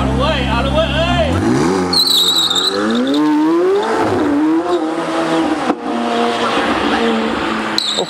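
A Lamborghini supercar with a 4-litre turbo engine accelerates hard through the gears, its engine note rising and dropping with each shift. Occasional tire squeal is heard, and excited voices shout over it inside the car.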